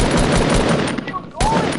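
Rapid gunfire in a video game, a dense stream of loud shots that drops out briefly near the end and then resumes, with a short rising electronic tone mixed in.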